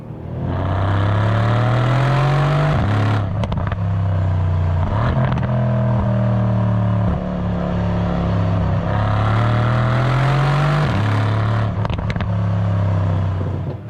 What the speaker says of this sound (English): the C63 is known for that V8 purr